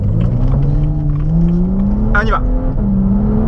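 A BMW 135i rated at 340 hp pulls hard as its engine note climbs steadily, with quick paddle-shift gear changes breaking the rising drone. Someone talks briefly over the continuous, close engine sound.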